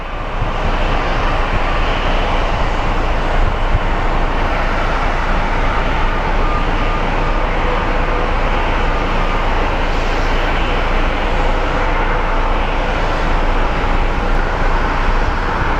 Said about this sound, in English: A little CRJ taxiing over to its home base on the north side of the runway